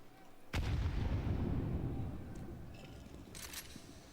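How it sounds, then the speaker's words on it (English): Two grenades detonating in a Counter-Strike esports match, a loud booming blast that rumbles and decays over a couple of seconds, followed by fainter crackling gunfire and clicks. "Double nades land on ramp."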